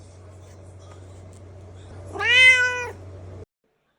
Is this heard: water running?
no